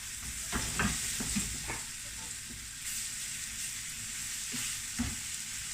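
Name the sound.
beef frying and sizzling in a pan for stew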